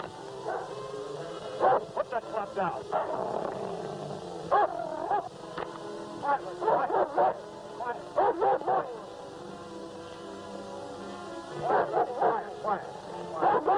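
A dog barks in repeated bursts of yips and bow-wows in an old Western film, mixed with a voice speaking a short line and a low background hum.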